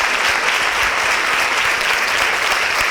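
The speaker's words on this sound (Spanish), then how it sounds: "un fuerte aplauso para..." Steady, dense applause from an audience fills the whole stretch, welcoming a doctor to the stage at an evening talk, with no pauses or voices breaking through.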